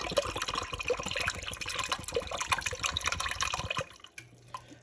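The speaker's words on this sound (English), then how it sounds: "so I'm going to fill the can up with some water" Water poured into a can while making seafood mac and cheese, a busy splashing gurgle that fills the can for about four seconds, then stops abruptly, leaving a faint low hum.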